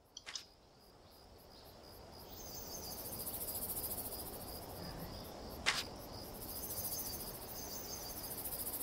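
Insects chirp in the Monster Hunter Rise video game: a steady, shrill, high-pitched chirring that swells gently, with a single sharp click partway through and no talking.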